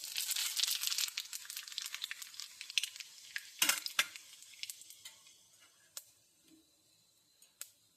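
Whole spices such as nigella seeds, radhuni and a few fenugreek seeds crackle and pop in hot oil before fish goes in, a bright dense sizzle fading into scattered sharp pops.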